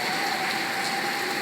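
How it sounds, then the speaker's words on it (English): Heavy rain on a February day pours steadily onto sodden ground, a dense, continuous hiss close around the listener with no breaks and no one speaking. "there is what I like to call epic rain."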